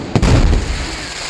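A single powerful firework explosion booms nearby, a sharp deep blast followed by a rumbling decay that lingers for about a second.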